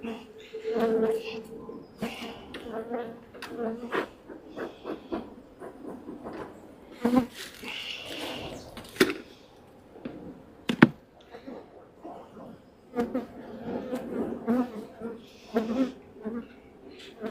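Honey bees buzz around an opened hive during an inspection, a steady close insect drone with scattered louder passes near the microphone and occasional handling noises.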